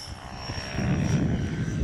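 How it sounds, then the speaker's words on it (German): A T-Rex 600 ESP radio-controlled helicopter flies outdoors, its rotor and motor giving a steady buzzing drone with a whining tone, moderately distant and swelling slightly louder partway through. "Der kann auch schnell fliegen, der Heli."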